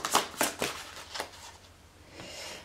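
A card is drawn from a deck with a few crisp, close flicks and slides of the cards, followed by a soft lingering rustle.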